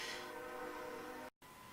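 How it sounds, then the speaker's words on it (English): A train passes nearby, sounding as a steady, loud rumble with sustained tonal harmonics like a horn, followed by a brief dropout and then continued rail noise. "Oh my god, there's a train."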